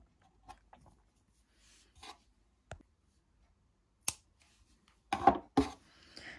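Scissors snip through yarn at a crocheted oval coaster, giving several sparse, crisp cuts and clicks close by, with a quick double snip near the end.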